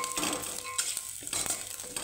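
Grated coconut roasts in a pan, giving a soft continuous sizzle with light scraping stirs and an occasional clink of a spoon against the pan, close and fairly quiet.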